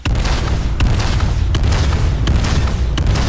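A rocket launcher fires in Planetside 2 amid dense, loud, booming battle noise, with sharp blasts recurring at a fairly regular pace over a constant rumbling roar.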